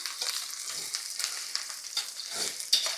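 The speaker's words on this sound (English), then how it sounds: "Put the onions in it. Let these onions cook a little bit." Onions fry in a little oil in a wok, giving a steady close crackling sizzle with small pops and stirring scrapes throughout.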